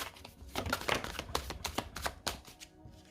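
Tarot cards are shuffled up close in a quiet room, a rapid run of soft riffling clicks and flicks in uneven bursts.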